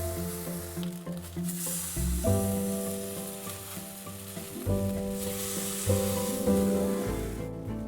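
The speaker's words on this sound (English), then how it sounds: "Carefully flip again and sear for another minute." Onigiri rice balls brushed with miso sear in a hot pan, giving a steady, close sizzle and crackle with occasional louder spits and no talking.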